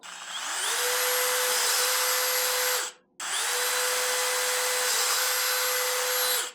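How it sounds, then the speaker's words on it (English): A power drill whirs steadily at high speed in two long bursts, drilling out holes in a drum, separated by a brief pause, with no talking. "So I got to drill them out first"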